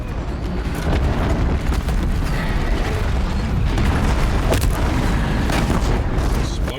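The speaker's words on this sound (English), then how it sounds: "Explosions." Explosions in the video game Horizon Zero Dawn, dense booming blasts and crashing bursts running continuously and loud throughout, with sharp impacts and faint voice content mixed in.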